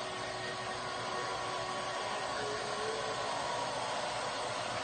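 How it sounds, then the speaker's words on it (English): A handheld hair dryer blows steadily on hair being dried before colour is applied, a constant close whooshing roar with a faint motor whine running unbroken throughout. "I'm blow drying it so we can put this on it."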